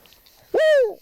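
A person imitates a spotted owl's call in the Ojai forest, giving a single loud, clear hooting note that rises and then slides down over roughly half a second after a quiet lead-in.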